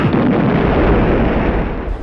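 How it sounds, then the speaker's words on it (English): A car's full gas tank explodes on a street near a boardwalk, a loud, sustained low rumbling blast that fills the whole stretch and fades slightly at the end. "A muffled explosion shook the whole place"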